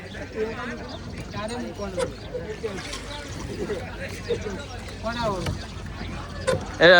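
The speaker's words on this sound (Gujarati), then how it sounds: "અમારી બોટ હવે કાંઠે પૂગું છે." A motor boat comes into the shore on a fishing trip in Spain, its engine churning and water splashing close by while people talk over it.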